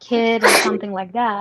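A single loud, close sneeze bursts out between stretches of voiced talk, with people speaking right before and after it.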